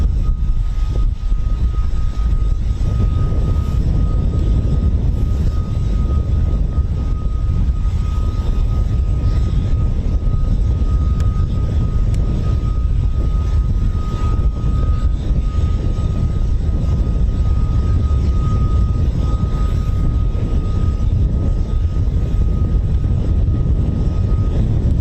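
Aircraft engine drone over the RAF Holbeach air weapons range during live combat training, a steady loud low rumble with a constant tonal hum running throughout and no voices.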